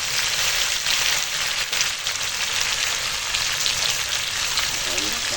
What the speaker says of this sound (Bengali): টমেটো কাঁচা লঙ্কা আলু একসঙ্গে দিয়ে একটু ভেজে নিচ্ছি